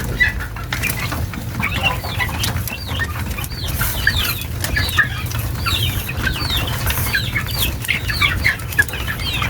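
Chicks chirping steadily and densely in a flock, with soft fowl clucks and intermittent wing flapping over a constant low hum, close and moderately loud throughout.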